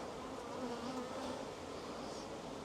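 Honey bees buzzing in an open beehive, a dense steady drone with no break, close by and fairly quiet.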